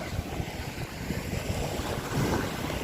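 A small boat crossing the water along the Rayong coast, with a steady engine rumble under sloshing water and gusty wind buffeting the microphone.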